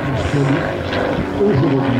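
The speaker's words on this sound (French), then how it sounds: "C'est un avion de construction amateur." An amateur-built propeller airplane flies at an air show at Lens-Bénifontaine, its steady droning engine hum filling the air continuously while an announcer speaks over it on a loudspeaker.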